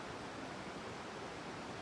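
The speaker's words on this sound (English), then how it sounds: "the water goes down behind us as well into more waterfalls" Steady broadband roar of waterfalls in the VR fishing game Real VR Fishing, a continuous, even rush of falling water with no breaks, loud and enveloping throughout.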